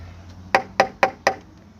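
Four sharp knocks on a door land in an even, quick rhythm, close and distinct over a quiet background hum.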